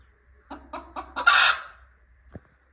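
A broody hen being settled onto eggs in a nest clucks close by, four short rhythmic clucks building into a louder drawn-out squawk, then quiet with a faint final cluck.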